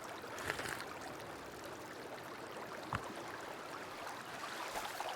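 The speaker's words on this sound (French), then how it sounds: "On boit de l'eau, même si" Drinking from a forest stream in the survival game Sons of the Forest: steady, soft running water and trickling with gurgles throughout, plus a brief louder splash near the middle.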